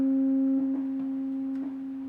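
A steady sine wave test tone plays through a Decware Zen tube amplifier, a continuous, unwavering hum with faint harmonics and a few soft bumps of background noise.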